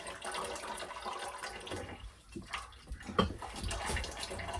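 Maple sap runs steadily through a freshly replaced filter, a close, continuous watery trickle with small splashy drips over a quiet outdoor background.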